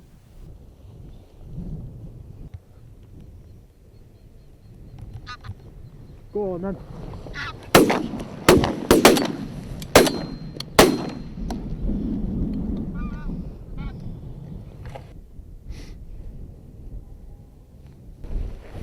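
Geese honking in a flock as they fly back over the Orkney countryside at dusk, a burst of loud, close calls that swells and fades, followed by a few sharp bangs and someone speaking briefly.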